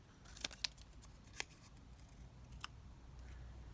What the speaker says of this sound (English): I will take my hair thinning scissors, I think, to the edge so it's like perforated.